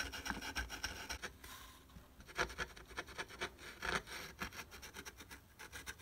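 A fine 000-grade abrasive pencil rubbed in small circles over a soil-crusted found coin, giving a close, steady scratchy rasping with irregular louder strokes and no talk.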